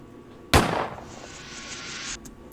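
A single loud gunshot cracks sharply within a song, followed by a brief decaying tail and a sustained high tone that fades out.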